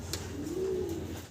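Giant Homer pigeons coo close by in a soft, rolling low call that swells and fades once over about a second.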